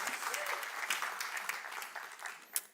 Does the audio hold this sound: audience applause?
yes